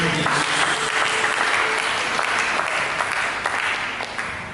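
A church congregation claps together during a sermon, a broad sustained wash of applause with a faint voice murmuring beneath, gradually easing toward the end.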